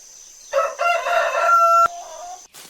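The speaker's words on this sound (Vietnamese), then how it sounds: "Chicken." A rooster crows once, loud and close, its drawn-out cock-a-doodle-doo rising and holding before breaking off abruptly, standing alone against a quiet background.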